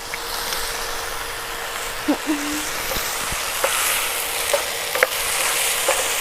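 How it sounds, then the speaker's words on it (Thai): Choy sum being stir-fried with oyster sauce in a pan on a gas stove, giving a steady background sizzle with a few brief clinks and scrapes scattered through it. "แล้วผัดจนกว่ามันจะสุกนะครับ"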